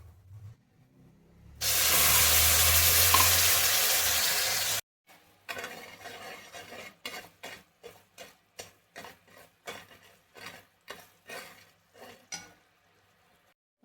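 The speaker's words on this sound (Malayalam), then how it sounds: "ഇനി നമുക്ക് അരക്കപ്പ് പഞ്ചസാര ഒരു ശകലം വെള്ളം ഒഴിച്ച് പാനിയാക്കി എടുക്കാം." Half a cup of sugar and a little water stirred into syrup in a pan for laddu: a loud steady hiss first, then a long run of regular scraping spoon strokes, close and clear with no talk.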